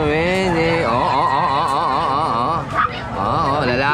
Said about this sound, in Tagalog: Ganda ng putragis na aso na to.